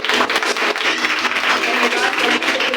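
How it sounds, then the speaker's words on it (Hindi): A congregation claps hands loudly and continuously during a Sunday worship service in New Delhi, a dense, close wash of applause with voices faintly beneath. "आइए ताली बजाकर परमेश्वर"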